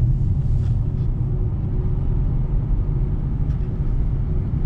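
Steady low hum and rumble inside a Hyundai Ioniq 6 electric car with its synthetic engine sound switched on, a continuous drone that stays level throughout with no talk.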